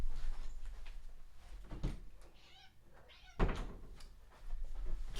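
A domestic cat meows a couple of times around feeding time in a home office, its calls fairly close and clear among door thumps and quiet room shuffling.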